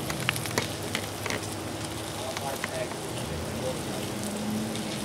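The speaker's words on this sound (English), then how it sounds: "I just want this to slowly fry for a little bit" Okra slowly frying in oil on a Blackstone griddle gives a dense, steady sizzle and crackle with scattered pops, close and fairly loud, while a person talks softly over it.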